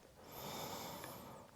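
A single slow, audible breath during a yoga flow, a soft airy exhale swelling and fading over about a second and a half, close and quiet with no talk.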